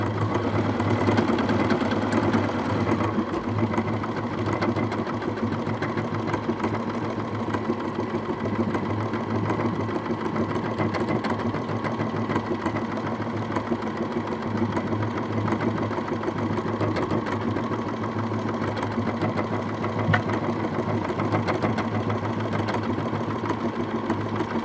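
A Bernina 570 sewing machine runs steadily for a long stretch, a continuous close mechanical hum with a fine rapid stitching rhythm and no talking over it.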